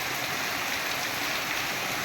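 Heavy monsoon rain pours down steadily over flooded village fields, a dense, continuous wash of noise with no gaps, fairly faint and heard without any talking.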